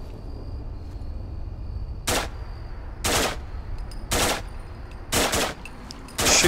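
Gunfire against gulpers in the video game Fallout 4 on max settings, five short loud bursts of shots spaced about a second apart over a low ambient game hum.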